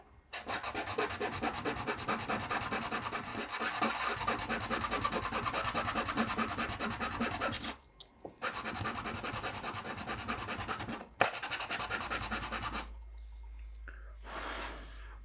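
Close, steady rasping of hand sanding on a toy disc launcher part, a continuous scrubbing rhythm that breaks off twice for a moment, then fades to a quieter hiss near the end.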